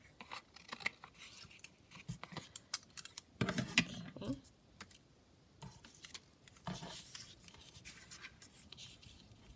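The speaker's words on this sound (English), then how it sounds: "Actually, I'll just trim it because that paper was not very straight." Scissors trimming paper for a junk journal tag, with a series of crisp snips and paper rustles, some quick and close together, others spaced apart, close and fairly quiet.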